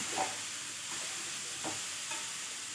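Salted momo filling stir-fried in a pan makes a steady, moderate sizzling hiss with a few soft scraping stirs spaced across the clip.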